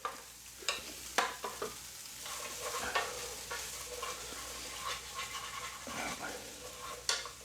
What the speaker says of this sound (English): Okay, they'll be frying away for a few minutes.